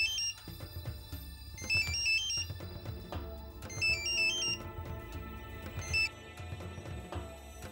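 A telephone ringtone sounds repeatedly for an incoming call in a Marathi TV serial scene, its bright electronic melody rising in loud bursts over a low background.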